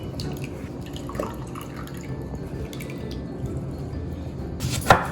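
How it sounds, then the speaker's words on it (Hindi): Fresh lemon and lime juice trickles and drips into a watermelon salad in a quiet kitchen, with faint liquid patter and small clinks. A sharper splash or clink comes near the end. "यहाँ पे मेरे पास है लेमन और लाइम, इनका आपने फ्रेशली तकरीबन 3 टेबलस्पून के करीब जूस डालना है इसमें"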